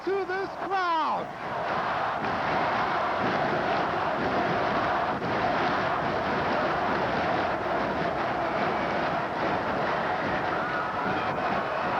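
A packed high school gym crowd at a 1994 IHSA Class AA boys basketball sectional final erupts after a three-pointer, a loud, sustained roar that fills the space. An announcer's voice is heard briefly at the start.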